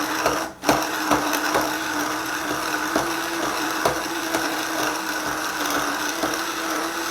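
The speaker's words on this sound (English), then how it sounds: "in goes that immersion blender. We're going to start it on low." Immersion blender running on low through tomato sauce, a steady mechanical whir with faint rhythmic ticks, preceded by a brief dip as it starts up, continuous and fairly close with no talking.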